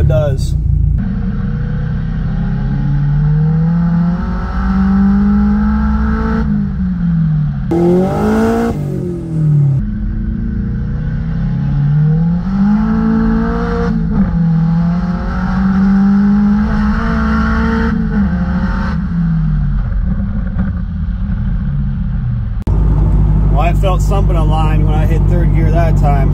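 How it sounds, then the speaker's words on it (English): Turbocharged Acura CL on a test drive with a newly fitted OEM axle, its engine droning steadily at close range through the cabin. The pitch rises and falls with throttle changes, and a brief shift break interrupts the drone partway through. "All right, so we're gonna go for a ride, test this axle out, see how it does."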